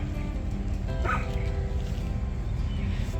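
Dogs bark and yip in the background of a home vegetable garden, a steady run of sharp calls with a whimpering edge, moderately distant over an outdoor hum.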